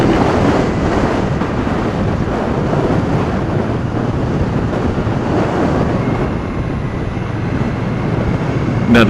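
Wind buffets a rider on a 2017 Victory Octane motorcycle, a loud continuous roar of rushing air over the microphone with low rumble underneath, steady from start to finish.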